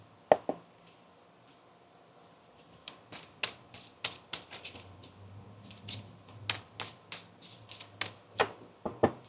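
A deck of tarot cards is shuffled close by, giving faint soft riffling with sharp snapping taps and flicks in irregular bursts that grow busier toward the end.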